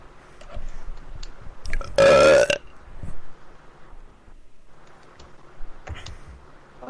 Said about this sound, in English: this belch is for you.